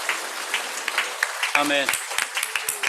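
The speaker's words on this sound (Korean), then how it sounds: "먼저 박수로 좀 환영해 주셨으면 좋겠습니다." A church congregation at an autumn gathering claps to welcome people about to be baptized; scattered, fairly close claps continue steadily while a voice briefly speaks over them.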